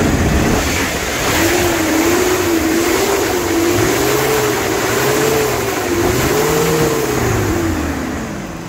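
A Daewoo Zace GL car engine is revved during a test, a loud, close, steady mid-pitched drone whose pitch swells and dips in repeated gentle waves, with no talking.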